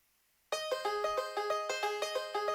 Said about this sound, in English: I sort of went with a MIDI banjo, and that sounds a bit like this.